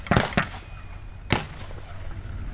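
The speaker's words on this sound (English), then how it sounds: "There's a BAR, Browning automatic rifle going off there." A Browning automatic rifle fires blanks at an outdoor WW2 battle reenactment at Tank Fest 2025: two quick sharp cracks close together, then one more crack a second later, each dying away into open-air quiet.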